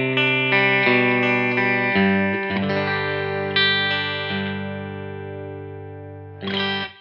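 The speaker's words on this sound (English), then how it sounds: "The clean tone in the amp sounds like this." Clean electric guitar through an amp, several sustained chords and ringing notes strummed at a relaxed pace, close and clear, with no one speaking.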